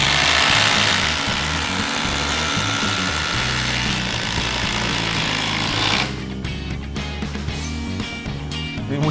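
DeWALT impact drivers driving fasteners, loud rapid hammering rattle close up, continuous for about six seconds before stopping abruptly, leaving scattered clicks and lighter mechanical noise.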